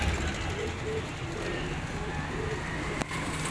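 Kasoori pigeons, a group of fifteen flying birds with spotted plumage, coo softly and steadily against a constant low hum, with a brief click near the end.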